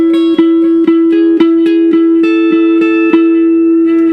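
Guitar picking the second part of a worship song, a steady run of regularly spaced plucked notes over a sustained low drone, close and clear with no talk.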